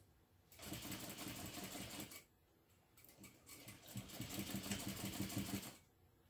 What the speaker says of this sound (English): make sure that this part that you sew directly along that line that you marked